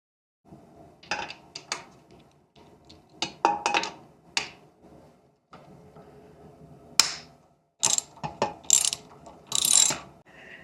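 An Allen wrench loosening nuts while fitting an IMS large-capacity fuel tank on a Suzuki DRZ400S motorcycle, heard as bursts of close metallic clicks, ratcheting ticks and scrapes separated by short pauses.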